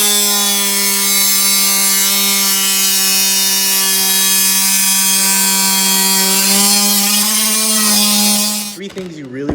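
A saw blade mitre-cuts porcelain tile with a loud, steady high-pitched whine that holds for most of the span, then winds down abruptly near the end.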